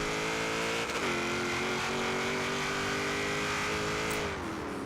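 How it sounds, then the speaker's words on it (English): A 1972 Ford Falcon XA GT-HO in Forza Horizon 3 revs hard with a sustained loud engine roar, dips briefly as it shifts gear, then climbs steadily again before easing off near the end. "You can let go of the gas, hit it again, transition to second gear like so."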